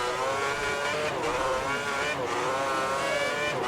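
Formula 1 car engine in the F1 2010 racing game, a high-pitched wailing whine that rises and falls through gear changes around a hairpin, loud and continuous.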